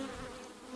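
A single bee trapped inside a beekeeper's veil near a hive buzzes in a steady, close, faint drone, heard alone for a brief moment.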